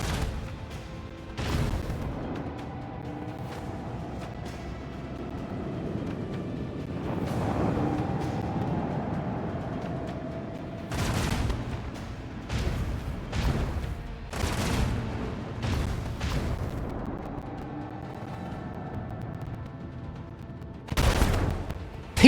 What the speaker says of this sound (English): Oh, they're firing at my torpedoes.